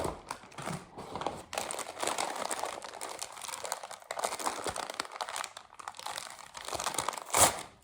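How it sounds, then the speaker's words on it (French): A taped plastic mailer parcel being torn open, giving close, loud crinkling and ripping plastic noises in irregular bursts, ending with a sharp tearing snap. "on déchire la pochette et du coup, on la réutilise pas"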